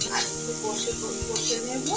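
Spices frying in a pan for an egg tadka, giving a low, steady sizzle with light stirring and occasional soft utensil knocks, while a voice speaks over it.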